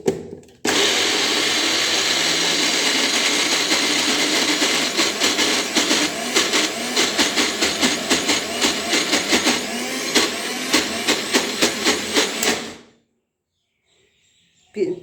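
An electric mixer grinder whirs loudly while grinding rice in its jar, running continuously, then pulsing in rhythmic bursts before cutting off into near silence.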